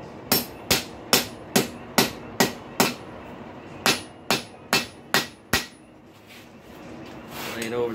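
Hammer blows ring out on an anvil as 5/16 stock is curled over the edge for a rail spike hinge, a dozen sharp, evenly spaced strikes with a short pause midway, then quiet.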